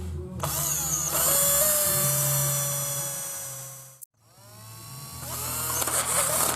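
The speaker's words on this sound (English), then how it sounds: "But I'm going to drill it" Power drill boring into a broken bolt on a tractor, loud and close, whining steadily, then cutting out briefly before spinning up again and running on.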